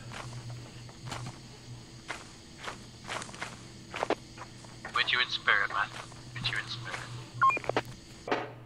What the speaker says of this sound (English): Some big footsteps.